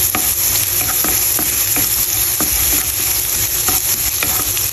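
Ginger frying in a pan while adobong atay at balunbalunan is cooked, a constant loud sizzle with rhythmic scraping strokes of a spatula close by.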